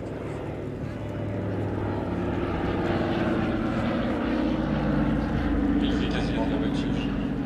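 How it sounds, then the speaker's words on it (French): A C-47 (DC-3) propeller airplane flies aerobatics at the Melun Air Legend 2023 air show, its steady engine drone loud and continuous throughout, with a crowd's murmur and a voice underneath. "un avion vide qui fait de la voltige"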